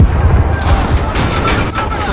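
An explosion after a thrown grenade in the Call of Duty Modern Warfare campaign, a loud, dense low boom with rumbling debris that fills the whole moment without a break.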